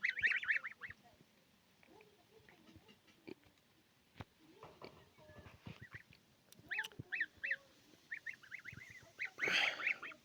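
Geese honking outdoors after being carried out into the fresh air: scattered, nasal honks from several birds come in bursts, with a louder clamorous flurry near the end and quiet gaps between calls.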